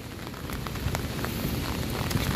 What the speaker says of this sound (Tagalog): Ngayong may nararanasan tayong pag-ulan